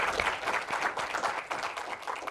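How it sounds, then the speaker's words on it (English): Audience applause at a community conversation event on lifelong learning, a brief burst of scattered clapping from a modest crowd, fairly soft and steady over its short length. "How about another round of applause for this?"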